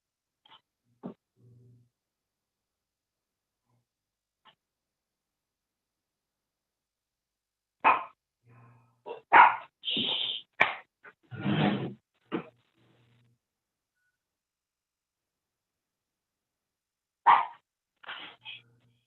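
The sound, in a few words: dog barking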